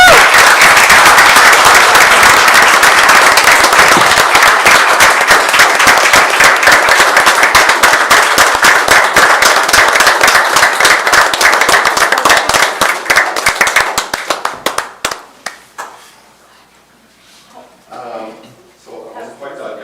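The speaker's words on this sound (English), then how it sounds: "Let us please all give a round of applause for these two exceptional individuals" Loud, sustained applause from a village council meeting audience, dense clapping filling about fourteen seconds before abruptly thinning to a few scattered claps and faint room murmur.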